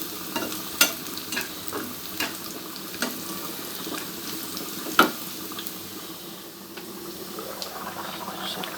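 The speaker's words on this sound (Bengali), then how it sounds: "আগে কাঁচা বাগার দিয়ে দিলাম, রসুন আর হচ্ছে পেঁয়াজ, আর এর মধ্যে কিছু পেঁয়াজ দিচ্ছি, কাঁচা পেঁয়াজ, কাঁচামরিচ" Garlic, onion and green chili fry in oil with a steady sizzle, punctuated by sharp spoon-on-pan clinks every second or so and one louder scrape near the middle; no voices.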